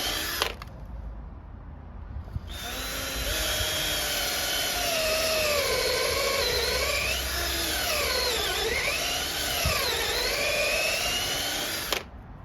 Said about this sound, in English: I pre-drilled the legs with an 8mm drill bit